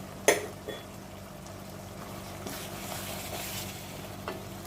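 Boiled kabuli chickpeas fry with onion and garlic in a pan, a soft continuous sizzle with a sharp spatula clack at the start and occasional stirring scrapes, close and fairly quiet.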